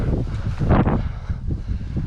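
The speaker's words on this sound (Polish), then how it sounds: "Wiatr wieje 300 km na godzinę." Strong wind roars and buffets the microphone continuously, with a louder gust swelling near the middle before settling back to a steady rumble.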